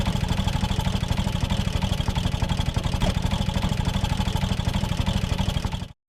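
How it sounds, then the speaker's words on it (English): An old 1912 boat engine on a swamp logging boat chugs steadily with a fast, even rhythmic thump, running loud and close without a break before cutting off abruptly at the end. "His 1912 engine has the same unmistakable sound."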